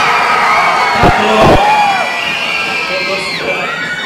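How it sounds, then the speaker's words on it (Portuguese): A live crowd at a stage presentation shouts and cheers together in a loud burst, with whoops and high voices rising over the roar before it slowly fades. "Eu quero ver o grito da galera!"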